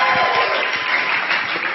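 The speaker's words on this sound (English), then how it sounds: "So please give everyone a huge round of applause for the amazing effort." Audience at a project showcase applauding, a steady dense clatter of clapping held at an even loudness throughout, close and continuous.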